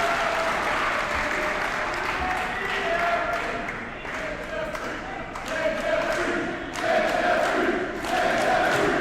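A pro wrestling crowd cheers and applauds loudly and continuously, dense clapping and shouts filling the space, with a few sharp thuds and voices mixed in.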